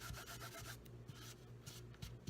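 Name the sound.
embossing buddy pouch rubbed over card stock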